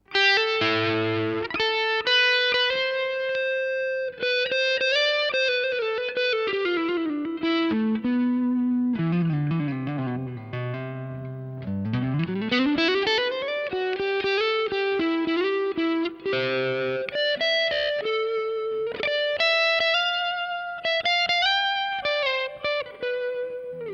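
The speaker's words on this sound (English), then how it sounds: "at its kind of low drive settings, you know, you've got kind of like an overdrivey sort of sound" An electric guitar through a Boss DS-1 distortion pedal at low drive plays a melodic lead line, warm and slightly gritty, sustained notes sliding and bending continuously.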